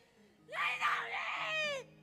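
A loud, high-pitched human scream rises sharply and holds for over a second during an exorcism at a prayer gathering, with a voice faintly before it.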